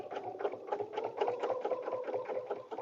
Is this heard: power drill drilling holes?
no